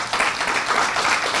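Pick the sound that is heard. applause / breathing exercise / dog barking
applause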